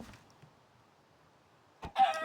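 A chicken in the video game Minecraft, on a rainy night in a survival world, gives a brief clucking burst near the end after a quiet stretch with faint rain-like hiss.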